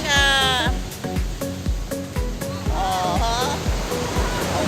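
Ocean waves at high tide roll onto a beach at Pio Sunset Beach Resort, a loud, continuous wash of surf with repeated breaking surges, while voices exclaim over it.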